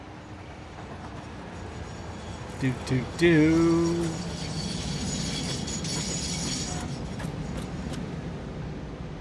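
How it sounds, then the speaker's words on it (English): A train arrives in the video game Satisfactory, a short pitched horn blast followed by a rising rumbling roll under a steady background hum, while someone talks and briefly hums along. "Here comes our train."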